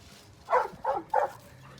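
Three short barks from a dog at a dog shelter, evenly spaced and fairly close, each a quick, clipped woof.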